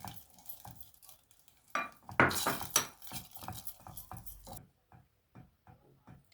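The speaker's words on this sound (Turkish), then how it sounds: "tarhanamızı kavurduğumuz sarımsak ve salçamızın içerisine ekliyoruz ve karıştırıyoruz" Metal utensil scraping and clinking in a pot as tarhana soup is stirred into garlic and tomato paste, with a few louder bursts of activity partway through and quieter tapping toward the end.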